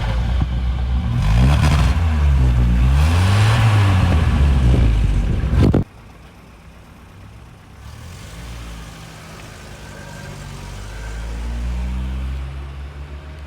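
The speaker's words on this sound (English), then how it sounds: "let's go and have a listen from the back exhaust so you can hear how it would sound if you were behind me in a queue of traffic" Exhaust of a 1960s Vauxhall Victor heard from behind the car: a loud engine with pitch rising and falling through revs, then a sudden drop to a quieter idle that builds again toward the end.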